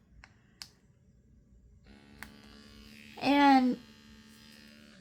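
A cordless diamond painting pen's small motor whirs steadily, joined by a brief, louder buzzing surge near the end, with a few faint clicks earlier.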